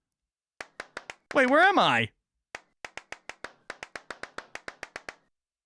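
Hands clap to drive a horror video game: a few quick claps, a brief spoken line, then a long run of sharp, close claps in an uneven rhythm.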